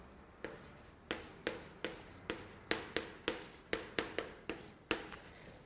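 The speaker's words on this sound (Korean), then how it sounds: "이제 내가 써볼게요." Chalk or marker writing on a lecture-hall board, a series of about a dozen sharp taps and short strokes in an irregular rhythm, fairly close and moderately loud, with no one talking over it.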